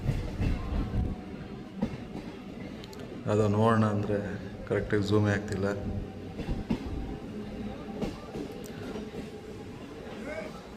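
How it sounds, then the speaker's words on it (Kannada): A train from Arasikere bound for Vijayapura rumbles past with a steady rolling clatter at moderate distance, while someone talks over it for most of the passage. "ಅರಸೀಕೆರೆಯಿಂದ ಬಂದಿರೋ ಟ್ರೈನ್ ಅದು. ಈಗ ವಿಜಯಪುರಕ್ಕೆ ಹೋಗ್ತಿದೆ ಆ ಟ್ರೈನ್."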